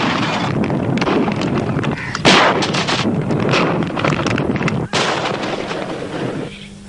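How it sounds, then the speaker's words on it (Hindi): An artillery gun fires a single round in a war film scene. The sharp, loud blast cuts through a continuous rumbling, windy battlefield background. "Delta fox rot 2538 one round gun fire."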